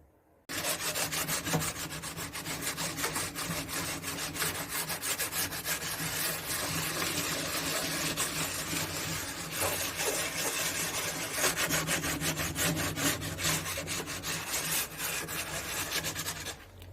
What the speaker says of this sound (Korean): 고온 사포를 이용해서 표면을 살짝 다듬어 줄게요